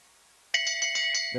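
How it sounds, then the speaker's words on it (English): A lap bell rings at a long track speed skating race: a quick run of about five bright, metallic strokes, fairly close, with a commentator's voice starting right after. "There's the bell."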